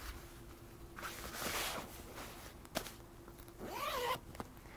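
A zipper runs along a zip compartment on a tweed travel bag, with soft rustling and handling, a brief zip pull and a short rising whistle-like scrape near the end, faint and close.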